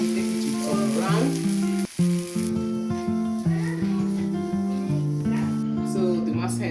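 Rice cake (masa) batter fries in a pot over low gas heat with a continuous sizzle. Loud tonal music plays over it and almost buries the frying for the whole stretch.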